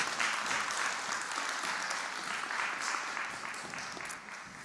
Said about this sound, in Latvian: Aplausi komandai!